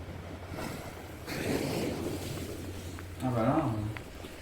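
Ocean waves wash at Saint-Malo under steady wind and a low boat-like hum, with a louder surge near the end where a voice briefly speaks.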